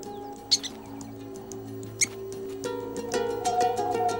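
Alarm call of a prairie dog, a few sharp, high chirps heard near the start and again midway over a quiet outdoor background, followed by a rising layer of tonal calls and bird-like chirping.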